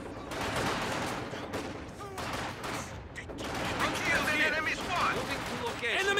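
Company of Heroes 2 campaign battle on General difficulty: bursts of rifle and machine-gun fire crackle through a busy mix, with in-game soldier voices calling out over the steady combat noise.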